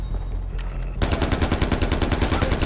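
Rapid automatic gunfire in Far Cry 4, a steady burst of evenly spaced loud shots that starts abruptly after a quieter stretch of game ambience and keeps hammering to the end.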